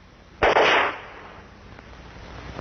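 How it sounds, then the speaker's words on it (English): Perforating charges firing down an oil well casing, heard as one sudden loud burst that rings for about half a second and then fades to a low background hiss. "We do it by firing a string of specially designed charges."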